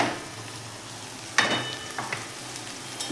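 Onion, tomato and a ground spice paste fry in a pan with a soft, steady sizzle, broken by a sharp clink of a utensil against the pan and a few light scraping stirs.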